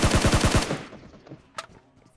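Gunfire in the mobile battle-royale game PUBG Mobile: a loud, rapid burst of about six shots, followed by quieter game noise and one sharp crack later on.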